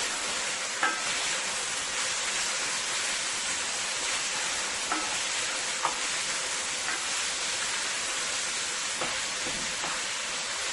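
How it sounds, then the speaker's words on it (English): Steady crackling sizzle of chicken seasoned with smoked paprika frying in a pan, continuous and fairly close, with occasional small pops and spits. "my chicken is nicely frying up here"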